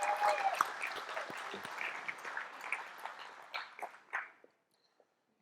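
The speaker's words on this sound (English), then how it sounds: "How about we give Lance Gunderson at Regen Ag Labs a round of applause for putting that lunch together for us." A forum audience at a soil health event claps for a lunch sponsor: soft, scattered applause from a modest crowd that thins out over several seconds into a few last claps, then silence.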